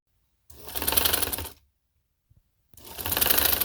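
A sewing machine stitches a loose double-layered chiffon baby frock in two steady whirring bursts of fast needle chatter, each over a second long, separated by a pause with a faint click.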